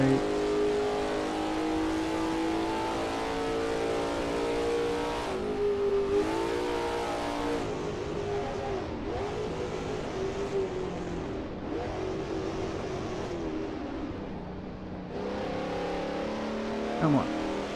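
A 1939 grand prix race car in Assetto Corsa, racing online at Chimay, revs hard through the gears, its engine note climbing and dropping with each shift, loud and steady throughout, while a person talks over it.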